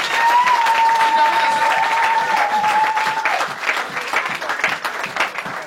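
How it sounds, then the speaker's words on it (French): Loud, sustained applause and cheering from a church congregation in a French-language service, with a sustained sung or shouted tone riding over the clapping early on, then thinning into scattered claps and voices. "donnons une acclamation au Seigneur"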